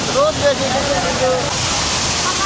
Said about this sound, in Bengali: বন্ধুরা, কি পরিমাণ স্রোত যাচ্ছে এখানে এই জায়গাটা, স্পেসটার মধ্যে মারাত্মক স্রোত।